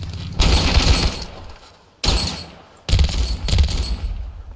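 Gunfire and shotgun blasts ring out in the Ravenfield battle game, coming in loud, dense bursts separated by short gaps, with one burst cut off abruptly before the next begins.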